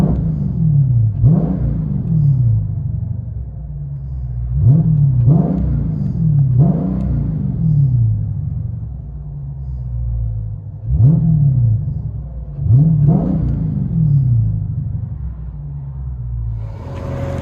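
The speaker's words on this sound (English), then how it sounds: "Dodge Challenger 392 and Shaker Edition, DYNOMAX race bullet, and rear delete with quad tip." A 2021 Dodge Challenger Scat Pack 6.4L V8 with Dynomax race bullets, rear delete and quad tips, heard from inside the cabin as a deep, throaty rumble that swells in several revving bursts.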